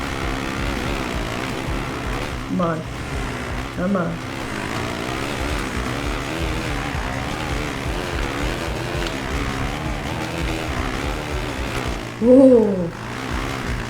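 A motocross bike engine in the video game MXGP 2 drones steadily during a qualifying run, with pitch shifts as it revs, while someone talks and exclaims over it.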